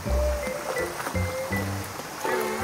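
Steady rushing of flowing water fills the clip, a continuous close wash with small splashes and gurgles throughout.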